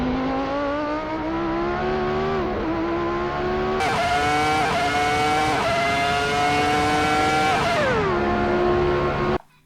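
A Ferrari F2004 Formula One car in Assetto Corsa at Spa, its high-pitched V10 screaming close and loud, climbing through the revs with quick upshifts, dipping under braking and cutting off abruptly at the end.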